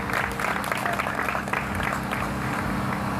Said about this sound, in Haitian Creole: Il méritait un tonnerre d'applaudissements.